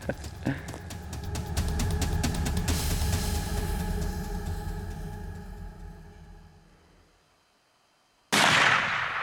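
A rifle shot fired at a bull elk on a hunt, a sharp blast near the start whose echoes roll and fade over several seconds before a loud burst of noise at the very end.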